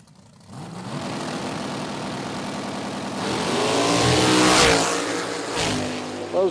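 Top dragster drag car on a run at an IHRA Outlaw Nitro Series qualifying session, a loud engine roar that builds and swells as the car launches and pulls away, then fades.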